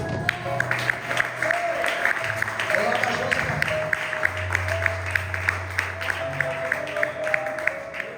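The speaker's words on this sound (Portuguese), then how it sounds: "Aplauda o Senhor" A church congregation claps in a steady, rhythmic beat during a sermon, the sharp claps repeating evenly over sustained keyboard-like tones and murmuring voices.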